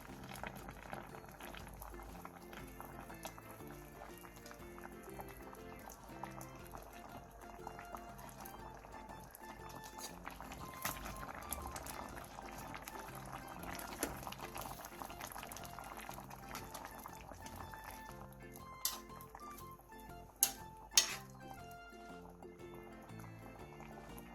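Perilla seed soup with dried pumpkin simmering in a pot, a faint continuous bubbling under quiet background music, with a couple of sharp clinks near the end.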